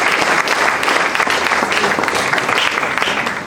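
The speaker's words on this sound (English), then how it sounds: "I think that deserves a round of applause." A live audience at a national moot court competition in Ogun State, Nigeria, bursts into a round of applause: dense, steady, close clapping that stays loud throughout.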